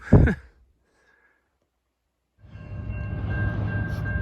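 A brief breathy sound at the start, then silence, followed by a steady low rumble of a passing train with a faint high tone, continuing to the end.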